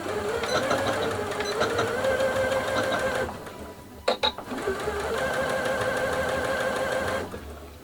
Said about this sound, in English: now let's do some test stitches and see how that works